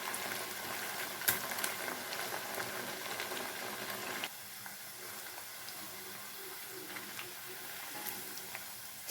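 Chicken 65 pieces deep-frying in hot oil in a pan, giving a steady close bubbling sizzle that drops slightly partway through and carries on without talk.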